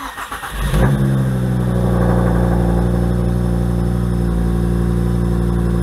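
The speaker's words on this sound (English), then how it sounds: "And I'll start the car now" An Audi with magnetic electronic suspension cranks briefly, then catches and settles into a loud, steady idle close by, a continuous low engine hum with no talking.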